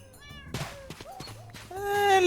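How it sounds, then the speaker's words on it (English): Several cats meowing in the Minecraft video game, a run of tonal, rising and falling mews, some drawn out and crying, with a louder, longer meow at the end, over faint game ambience. "now it feels a little less fake now with the kitties crying in the background"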